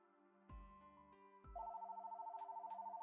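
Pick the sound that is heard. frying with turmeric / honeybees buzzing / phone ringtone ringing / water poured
phone ringtone ringing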